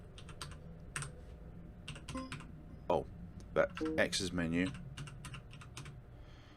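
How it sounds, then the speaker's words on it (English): Scattered computer keyboard key presses while playing an RPG horror game come in quick clicks, mostly under a man's speech and faint game sounds. "Go for all the different things on the keyboard."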